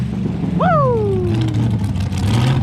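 A front-engine dragster at a drag strip, its engine roaring loud and steady with a sharp pitched sweep that rises then falls away as the car pulls off, continuous over background noise.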